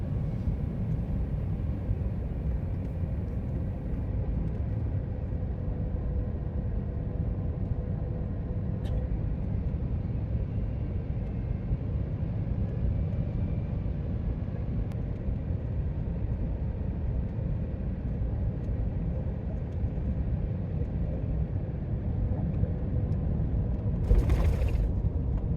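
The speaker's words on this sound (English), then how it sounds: "Shortly after the meal was cleared, we started our descent into Helsinki." Steady, loud broadband roar inside a Finnair Airbus A350 airliner cabin during descent into Helsinki, a constant engine and airflow rumble throughout with a brief hiss near the end, no talk.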